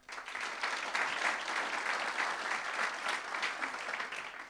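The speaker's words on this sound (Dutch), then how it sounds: "Mag ik een applaus?" An audience at a local business event in Venray claps steadily for a few seconds, a dense, even wash of applause from a roomful of people with no talking over it.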